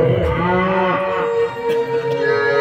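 A cow moos loudly and continuously, a long sustained bovine call with rich harmonics, heard alone and close with no talk over it.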